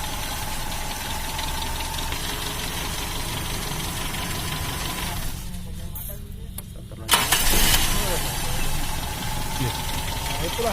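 A 1994 Toyota Kijang engine cranks and catches, then settles into a steady knocking idle close to the microphone, with people talking nearby.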